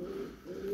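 A single brief, soft coo comes from a nearby Turkish play pigeon, a low, rounded call that dips in the middle before resuming.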